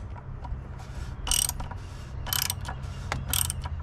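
A hand tool snugs an oil filter on a Jeep JK during an oil change, giving short bursts of close, crisp ratcheting clicks in three or four quick spurts separated by brief pauses.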